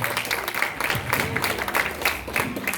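A church congregation claps for Jesus of Nazareth, uneven rhythmic clapping from many hands close by with some crowd murmur mixed in and a bit of voice underneath.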